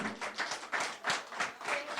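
A church congregation gives a burst of applause during a Sunday service, steady clapping heard faintly as if from a distance, without speech over it.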